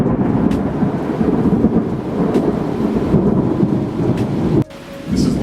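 Heavy summer rain pours steadily with thunder rumbling beneath it, a dense, loud wash of falling water that drops off sharply near the end before resuming.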